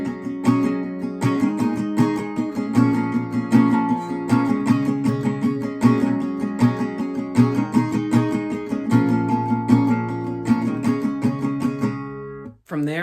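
Steady acoustic guitar strumming carries the chorus chords of a song, a dense, rhythmic pattern of bright strokes played solo and close, continuing for several bars before a brief pause and final strum.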